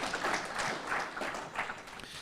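Steady applause from a crowd at an awards dinner, a dense wash of clapping that swells and dips slightly throughout, moderately loud and without talk.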